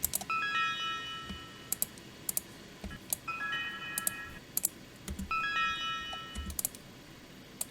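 A short melodic soundbite of a few high bell-like notes transposed to B, repeating three times over a busy, noisy background with scattered clicks.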